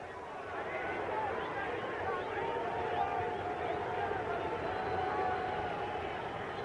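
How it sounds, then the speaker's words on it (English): A boxing crowd at Hampton Coliseum during a Pernell Whitaker vs. Greg Haugen title fight roars in a steady, loud wash of voices while a commentator talks over it. "The crowd here at Hampton Coliseum starting to chant, Pete, Pete, Pete."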